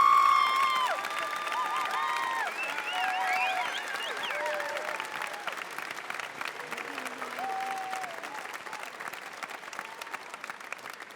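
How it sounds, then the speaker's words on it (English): A university commencement crowd applauds graduating students, sustained clapping with cheers and whoops threaded through, starting loud and continuing at an even level. "we should applaud these students"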